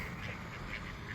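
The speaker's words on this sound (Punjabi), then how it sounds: "ਉਹ ਦੋ ਬੱਤਕਾਂ ਕੁਐਕ ਕੁਐਕ ਕੁਐਕ ਕੁਐਕ ਕੁਐਕ" Two ducks by a pond quack in a quick, repeated burst, close and clear for a brief moment.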